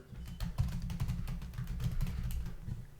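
A password being typed on a computer keyboard, a quick run of soft close key clicks in an irregular steady rhythm, faint and alone.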